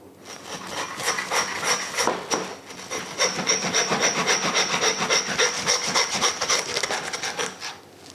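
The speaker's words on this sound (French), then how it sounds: "Et là avec la scie, on va venir scier au centre." Steady back-and-forth sawing through a leg of meat, close and loud, a rhythmic rasp of blade cutting through bone that continues almost without pause.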